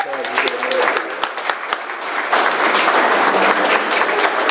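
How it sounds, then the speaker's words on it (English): A school audience at an arts school wax museum event gives a big round of applause, starting with scattered distinct claps under a voice and swelling into loud, dense, sustained clapping. "Give him a big round of applause."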